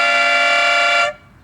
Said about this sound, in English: and then it would turn on the air horn